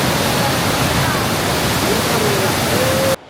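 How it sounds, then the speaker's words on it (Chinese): Steady loud roar of rushing water from a waterfall near an icy Columbia Icefield trail, broadband and continuous, cutting off abruptly at the end. "我猜那邊山洞應該是可以看到瀑布"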